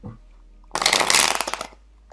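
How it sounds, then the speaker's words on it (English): A quick burst of tarot cards being shuffled, a rapid riffling flutter lasting about a second, close and fairly loud, with quiet before and after. "when I shuffle cards out, I'm going to start getting messages"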